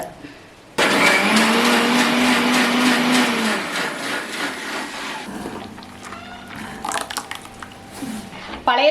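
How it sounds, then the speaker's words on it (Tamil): Mixer grinder coarsely grinding cooked rice for buttermilk koozh, starting abruptly with a loud, steady motor whine for several seconds before cutting off, followed by softer handling sounds and some nearby talk. "சாதத்தை வந்து குறை குறைப்பாக அரைச்சி எடுத்துகிட்டு வந்துட்டேன்"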